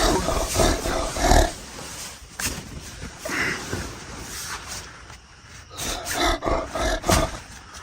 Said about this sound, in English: that sounds like a bear, like for real.